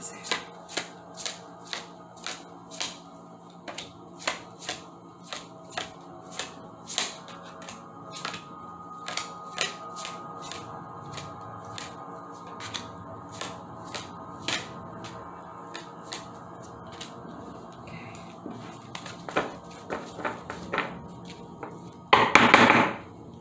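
Tarot and oracle cards are handled and flipped over one by one, a steady run of crisp, close card slaps and snaps spaced a second or so apart, ending in a brief louder riffle.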